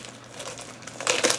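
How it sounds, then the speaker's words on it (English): Plastic wrapping peeled off a 78-card tarot deck, soft crinkling up close that swells into louder crackling bursts near the end, with no talking. "Just peeling this wrapping off."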